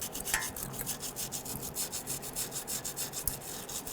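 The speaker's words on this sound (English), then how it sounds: "we grabbed a very gentle bristle brush here, and we want to clean the ports here" A gentle bristle brush scrubs the ports of a brake caliper on a 1999–2004 Jeep Grand Cherokee, giving faint, close, rhythmic rubbing strokes repeated several times per second.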